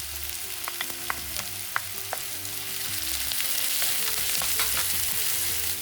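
Sliced white onion, crushed garlic and green chili fry in a pan for a pumpkin leaf and flower thoran. A continuous hissing sizzle grows slightly louder, with occasional light spatula clicks and no talking.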